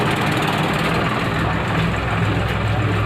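A sewing machine runs a loose basting stitch on bra fabric for a front-opening bra, giving a steady, close, continuous whirring hum with no breaks.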